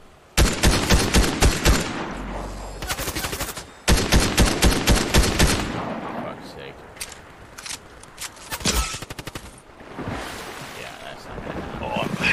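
Rapid bursts of video game gunfire, two loud rattling volleys in quick succession followed by scattered sharper shots and a wash of wind-like noise, with a voice talking over parts of it.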